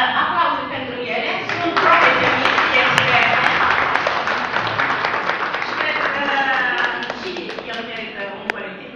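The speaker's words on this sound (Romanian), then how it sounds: "Aplauze pentru ele" An audience applauds at a public event, a dense, steady wash of clapping that stays fairly loud throughout, easing slightly in the middle before swelling again, with voices faintly mixed in.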